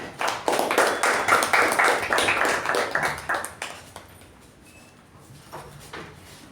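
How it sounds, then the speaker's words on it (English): A burst of applause from a crowd at a Toastmasters meeting, steady clapping for a few seconds that thins out and fades to a quiet room. "With a round of applause, please help me welcome our MC for today, Toastmaster Sindhushree"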